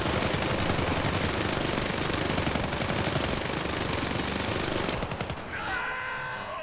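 A minigun in the Syndicate shooter unloads in one long, rapid, continuous burst of gunfire for several seconds, then cuts off into a brief ringing tail; no talking.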